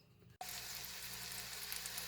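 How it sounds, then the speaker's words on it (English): Bratwursts sizzle in a frying pan on a home stove, a steady broadband hiss starting abruptly after a brief quiet moment and continuing loud and close with no talking. "I have the brats in the frying pan now"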